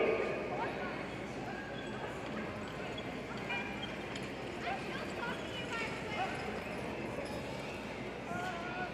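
Purebred Clydesdale horses trot during a chore team competition, their hooves clip-clopping in a busy, continuous rhythm beneath people talking.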